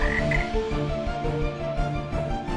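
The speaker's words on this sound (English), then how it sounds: "The frogs filled the land." Frogs croak in a dense, overlapping chorus, a steady pulsing racket with no voices.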